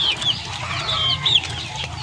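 Backyard chickens fed on ipil-ipil, mulberry and malunggay cluck close by, several short high calls scattered over a couple of seconds with no talk.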